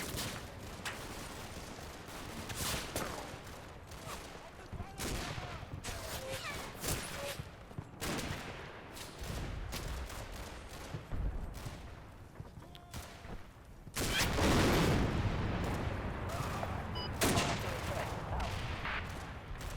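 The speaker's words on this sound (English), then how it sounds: "Looks like there's some Sten gun fire from these Germans." Sten gun fire from German soldiers in a World War II video game, a last-stand battle, sounds as rapid automatic bursts and scattered shots with a heavy louder barrage near the end, without speech.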